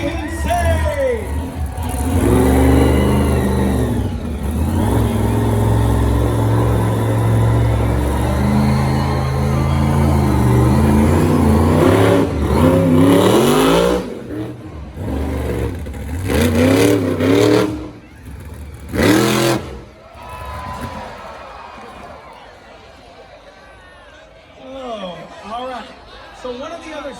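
The monster truck Temporarily Insane, driven by Tyler Rowe, roars and revs loudly in a stadium at a Monster Jam show in Costa Mesa, its engine droning with rising and falling revs, then cutting out, while an announcer and crowd carry on.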